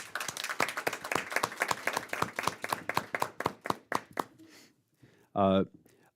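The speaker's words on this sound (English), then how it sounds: "So, round of applause for a wonderful accomplishment." Applause from a board meeting audience, many hands clapping steadily in a room, thinning out and fading to scattered claps before a short tonal beep near the end.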